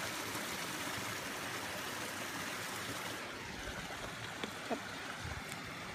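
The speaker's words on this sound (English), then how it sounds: "this is a smaller creek compared to the other one." A small creek in Sequoia National Forest flows with a steady broadband rush of water, fairly faint and continuous, with brief faint sounds near the end.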